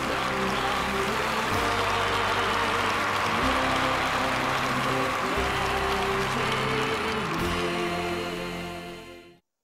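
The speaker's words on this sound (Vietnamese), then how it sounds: "Chúng ta cho một tràng pháo tay chào đón gia đình thí sinh chị Nguyễn Thị Di và anh Lê Văn Uyết." A television studio audience gives sustained, even applause to welcome a contestant's family, over a musical backing, before everything fades out.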